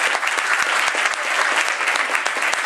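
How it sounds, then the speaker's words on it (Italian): Audience applause fills a comedy evening in Camerota, a steady dense wash of clapping from a crowd, loud and close, sustained without pause and with no voices rising above it. "chiedo di fare un applauso forte a Sabina"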